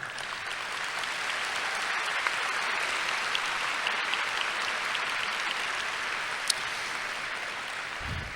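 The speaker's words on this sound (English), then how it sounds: "It's okay, you can clap." Large audience at a high school commencement ceremony applauds graduates, an even, continuous roar of many distant hands that holds for eight seconds with a few sharper claps standing out.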